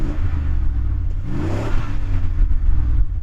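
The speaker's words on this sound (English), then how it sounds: "Go on, Yanni, rev up yours." Bentley Continental car engine revving hard, a loud sustained roar that swells near the middle and holds steady throughout, heard close with no talking.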